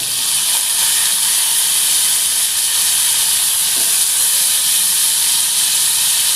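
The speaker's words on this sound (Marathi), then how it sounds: "आणि आता आपली जी फ्लावर आहे ना आपण ती टाकूया." Cauliflower goes into a hot pan with garlic and coriander and sizzles, a loud, continuous frying hiss that stays even for several seconds with no talking.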